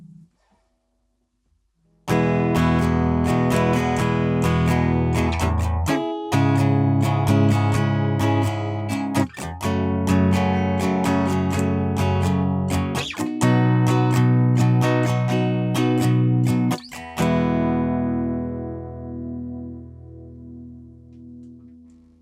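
A guitar is strummed and recorded, loud chords ringing with effects after a short quiet start, rhythmic strokes repeating for about fifteen seconds before a final chord decays into silence.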